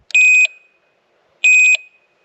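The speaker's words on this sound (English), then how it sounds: "You can hear the beeping when I put it in reverse." A Massimo Cargo Max electric trike in reverse gives two bright, loud electronic beeps about a second apart, each a short warbling tone, with silence between.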